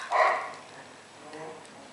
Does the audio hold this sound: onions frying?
no